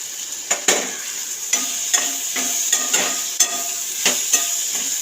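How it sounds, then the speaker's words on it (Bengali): Fried prawns are stirred into a curry in a pan, making a soft frying hiss punctuated by about a dozen light scraping and clinking strokes of a spatula at an irregular pace. "এবার অ্যাড করে দেবো ভেজে রাখা চিংড়িগুলো।"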